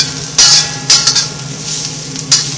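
Onions fry with a steady sizzle in a wok on an electric stove, broken by several loud scraping stirs of a utensil against the metal.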